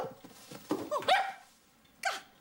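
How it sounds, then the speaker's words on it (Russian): A stray dog barks a few sharp, close yelps in quick succession, then pauses before one more short bark, loud against a quiet room. "Бездомный пес, которого я подобрала."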